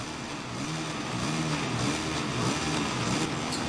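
A Moto3 bike revs on the grid at the Catalan Grand Prix in the MotoGP 22 video game, its engine note rising and falling in repeated pulsing surges, moderately loud and steady without talk.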